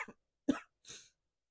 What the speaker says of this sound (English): Again, I'm going to cough.